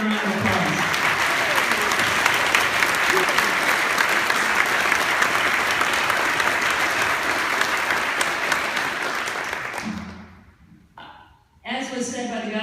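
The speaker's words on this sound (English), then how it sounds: "Let's give them a round of applause." An audience at a public event honouring veterans and active duty service members breaks into sustained applause that holds steady for about ten seconds, then fades out, followed by brief speech.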